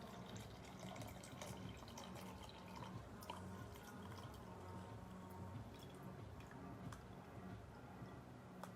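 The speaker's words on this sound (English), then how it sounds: "I'm pouring it straight in the pot." Water is poured straight into a pot of cornstarch while making play clay, a faint continuous trickle with small drips, heard alone and close.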